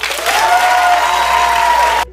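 An audience bursts into loud, dense applause that holds steady for about two seconds, then cuts off abruptly.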